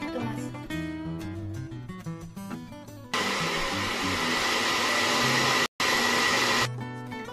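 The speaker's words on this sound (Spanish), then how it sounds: "Voy a poner un vasito de agua para que se muela" A blender grinds a tomato mixture with paprika and water, a loud steady whirring roar that starts abruptly, cuts out for a split second, then resumes before stopping, after a stretch of background music.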